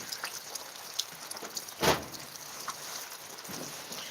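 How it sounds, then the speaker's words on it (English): Light rain falling outside on a porch, a soft steady patter with scattered nearby drips and one brief louder splash, no talking. "I love listening to the rain"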